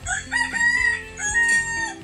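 A rooster crows loudly and close by, one long drawn-out call with rising and falling pitch, nothing else audible.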